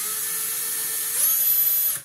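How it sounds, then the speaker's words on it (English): A power drill whirs steadily as it starts a hole in a metal ceiling fan box bracket, the pitch rising slightly near the end before the motor winds down, close and alone. "I'm going to get my drill bit and start a hole."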